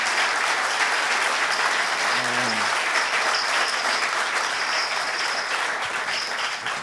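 Audience applauding four string players, a full, continuous round of clapping that stays loud and even throughout, with a brief voice murmuring under it.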